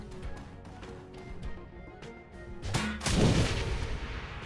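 A gunshot fires in the video game Shadowrun: Hong Kong, a sharp, loud blast near the end that follows softer game sounds.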